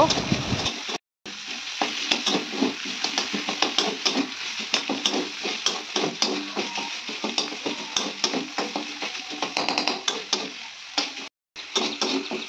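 Chopped onion and tomato fry in oil for a lentil tempering, a close crackling sizzle paired with rapid rhythmic scraping and clicking of a spatula against the pan, continuous apart from two brief drop-outs.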